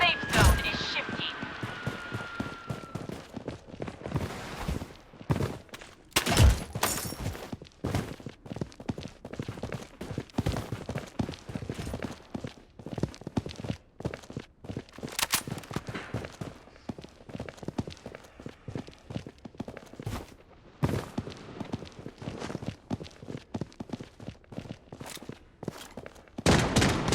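Gunfire in the shooter video game Blood Strike, dense rapid bursts of automatic shots and sharp single cracks going on almost nonstop, loud and close, with brief in-game voice callouts mixed in.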